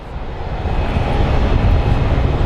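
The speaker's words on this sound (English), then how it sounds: "Our next plane is an American Airlines 737-800 headed to Santa Ana." An American Airlines Boeing 737-800 departs Phoenix Sky Harbor for Santa Ana. Its jet engines make a steady, loud, broadband roar that swells slightly and continues unbroken, with no voices.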